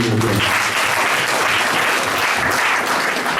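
Sustained crowd applause at a large company conference fills the room, a thick continuous wash of clapping from many hands with no break.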